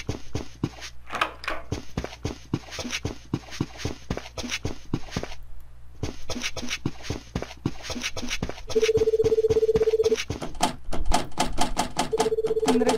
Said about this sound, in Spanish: ¿Tendré que contestar el teléfono?